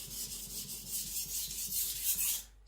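Aogami steel Eden Kanso gyuto being thinned and sharpened on a whetstone, a steady rhythmic scraping rasp of blade strokes back and forth, close and fairly loud, stopping near the end.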